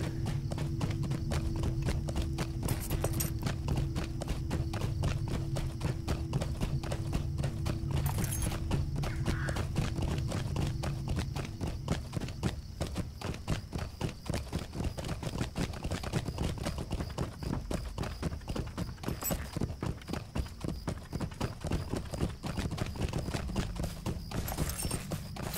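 Horse hooves clip-clop steadily under a rider in a fantasy video game, a continuous rhythmic patter over low background rumble and occasional faint game sounds.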